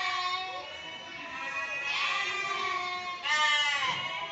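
A goat bleats repeatedly in long, wavering cries, loud and close, with a brief pause between calls, at a livestock market.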